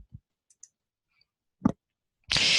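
Computer mouse clicks while scrolling through and selecting employee names in a report program: a few sharp isolated clicks in near silence, then a burst of broadband noise at the end.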